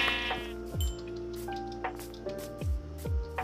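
Video game sheep bleat a few times in short wavering cries over a steady tonal background, with soft dripping sounds scattered throughout.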